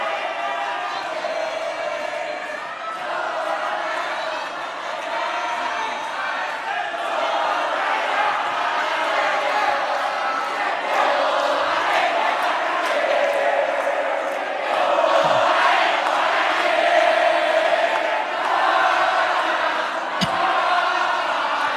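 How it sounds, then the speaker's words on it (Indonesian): An audience at a gubernatorial debate in West Java applauds and cheers for a candidate pair, a steady wash of clapping and crowd noise with whoops that continues throughout. "memberikan apresiasi dan aplaus untuk pasangan"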